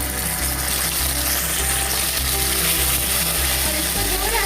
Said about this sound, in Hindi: तो जिंजर गार्लिक का पेस्ट थोड़ा सा फ्राई हो चुका है।